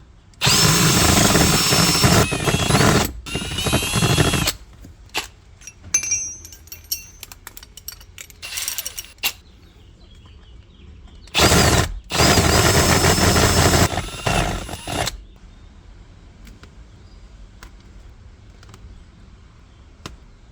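A power drill forcing an undersized bit to widen a hole for a lighted switch installation, in two loud whining bursts of several seconds each, with clinks and handling noises between them.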